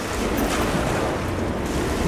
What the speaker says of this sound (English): I really didn't expect to be able to walk in the water.